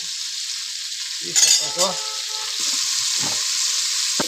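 Garlic and chili sizzling in hot oil in a pan, a steady bright hiss throughout with a few clinks of a spoon against the pan, while a person talks briefly.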